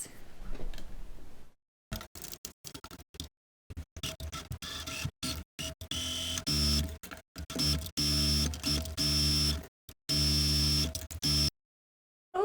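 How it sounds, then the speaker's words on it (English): A sewing machine stitching a seam on a vintage-style girls' Easter dress, running in loud bursts of rapid mechanical chatter separated by short pauses and stops. "now I'm going to sew that in place"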